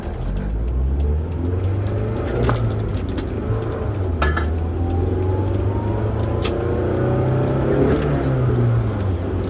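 A car engine accelerating up close, its droning note climbing and easing through gear changes over about ten seconds of continuous rumble.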